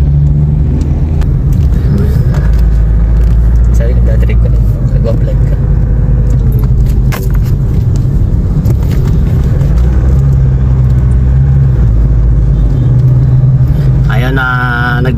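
A car drives through heavy traffic on a national road in the Philippines, its steady engine rumble and road noise loud and continuous throughout, with a brief higher whine near the end.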